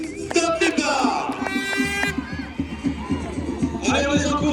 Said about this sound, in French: on les encourage, on les applaudit très fort